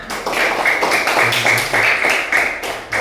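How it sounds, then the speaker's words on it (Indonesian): A classroom of students applauds together, a sustained, dense patter of many hands clapping that carries steadily through the whole stretch with small surges. "Sudah, tepuk tangan"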